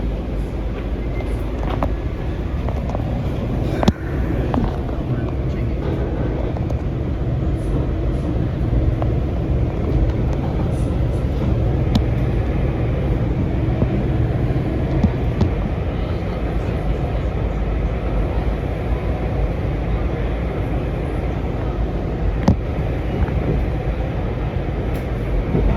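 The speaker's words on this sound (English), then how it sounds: "We're outside of the train." Metro train at Ronald Reagan Washington National Airport station, a steady low rumble of rolling stock and station ambience holding level throughout, with a few sharp clicks and bumps along the way.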